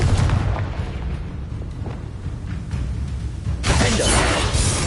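A Confringo blasting curse in Hogwarts Legacy, a crackling, roaring burst of fiery destruction that rumbles throughout and flares into a bright shattering blast near the end.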